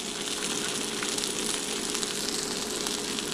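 Butter sizzles in a hot pan with a little oil, giving a continuous, close, crackling fry with small pops scattered through it, heard on its own without talk.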